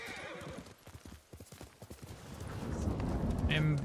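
Horse hooves clip-clop at a gallop in the samurai video game Ghost of Tsushima, with whinnies breaking through, the hoofbeats swelling louder and closer toward the end; someone talks briefly over it.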